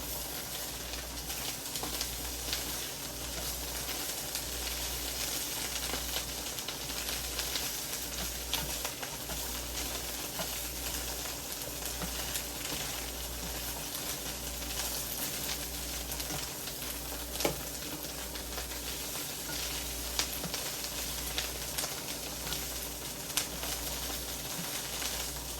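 Broccoli mac and cheese stir-fried in a hot pan gives off a steady, close sizzle and frying hiss that runs throughout, with occasional faint clicks as the mixture is stirred; no one speaks.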